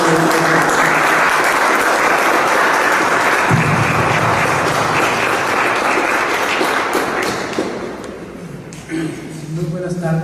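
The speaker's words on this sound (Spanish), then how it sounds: "Un aplauso." Audience applause fills a book presentation at a film festival in Guanajuato, a dense, steady clapping from a seated crowd that holds loud for about eight seconds before thinning out, with a voice coming in near the end.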